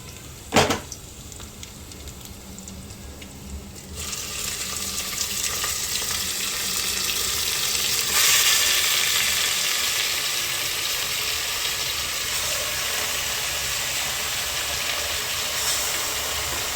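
Mutton added to hot tempering in a cooking pan gives a steady, loud sizzle and frying hiss that swells around the middle and keeps going to the end, with no talking.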